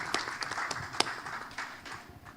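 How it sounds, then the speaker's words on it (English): Scattered applause from a small conference audience greeting a speaker at a radio industry event in Asia, a light patter of individual claps, fairly faint and thinning out over a couple of seconds. "Please give her a round of applause."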